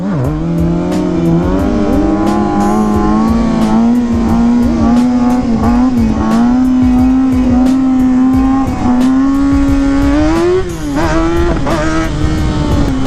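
A loud 2020 Kawasaki 636 stunt motorbike engine revs hard nearby, pitch climbing and dropping between quick auto-shifter gear shifts, with a sharp rev spike near the end.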